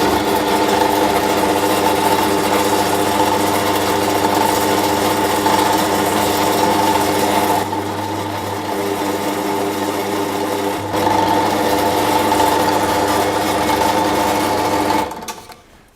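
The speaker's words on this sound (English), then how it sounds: "We'll get some power and we'll drill this in." A power drill bores through a micarta knife handle in a steady, continuous high whine that holds for about fifteen seconds, dips briefly partway through, then cuts off at the end. No voices are heard.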